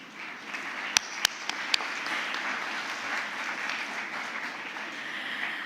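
A valedictory function audience at a Model UN conference gives the organizers a sustained round of applause, broad and even, with a few sharp louder claps near the start.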